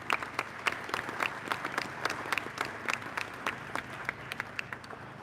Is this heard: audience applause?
yes